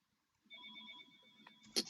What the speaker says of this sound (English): you'll have to excuse the phone in the background here